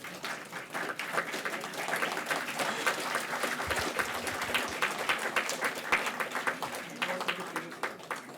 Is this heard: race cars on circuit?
no